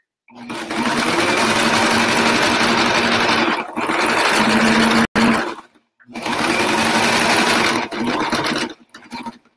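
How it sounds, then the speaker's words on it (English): A sewing machine sews a pillow cover in long, loud continuous runs of rapid stitching, broken by a few short stops and ending in quick stuttering bursts. "I'm just gonna quickly sew"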